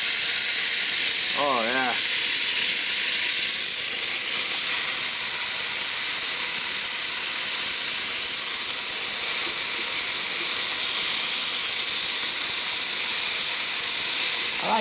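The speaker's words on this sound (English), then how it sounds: "our Foodie Grill has preheated to 450 degrees, which is a medium heat. Mm-hmm. And listen to that sizzle." Basil lime marinated chicken sizzles on a Ninja Foodi Grill preheated to 450 degrees, a loud, steady, close hiss throughout, with a brief spoken remark early on.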